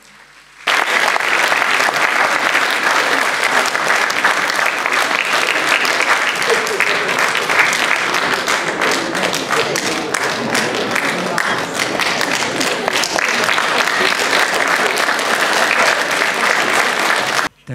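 A hall audience greets the band with loud, sustained applause that starts abruptly and runs dense and even for over fifteen seconds before cutting off.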